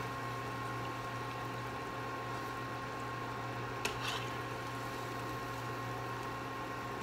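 Oil sizzles and bubbles steadily as cireng, Indonesian tapioca dough, fries, a constant crackling hiss with a faint electrical hum and one small clink.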